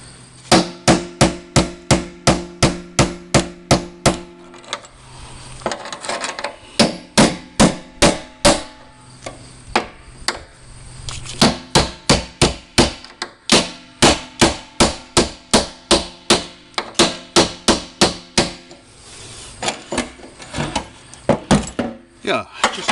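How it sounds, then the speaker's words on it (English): Repeated hard hammer blows on a Jeep fuel pump assembly during a fuel tank replacement, loud sharp metallic strikes in rapid bursts with brief pauses between runs. "We're going to try a bigger hammer."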